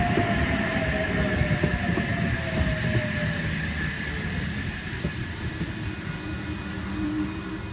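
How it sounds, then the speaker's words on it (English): A Sydney Trains Oscar set pulls away from Koolewong station, a steady rumble of wheels and motors with a long, falling squeal of rail, close and continuous throughout, with no talk. "The Oscars are now departing platform number 2"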